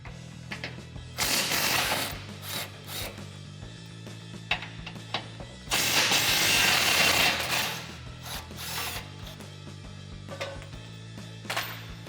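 A ratchet loosens the skid plate bolts on a Jeep Gladiator JT, with close, rapid metallic clicking in repeated bursts over a low background hum.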